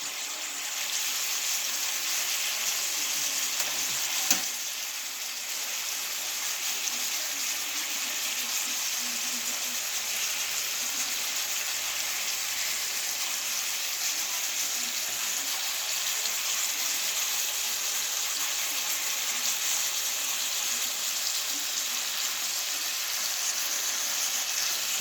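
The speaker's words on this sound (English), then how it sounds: "I'm just watching this steak cook" Ribeye steak frying in a pan, a continuous hissing sizzle that holds steady and fairly loud throughout with one brief knock early on.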